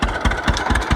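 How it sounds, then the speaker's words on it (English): A tractor engine idles after raking an alfalfa field, its loud, steady chugging pulsing in an even rhythm of regular low thumps, close by and alone. "get the tractor turned off here in a minute after it cools down"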